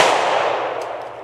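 A single shot from a Springfield Armory Echelon 4.0C pistol, caught as a loud, close blast that rings out and decays over about a second.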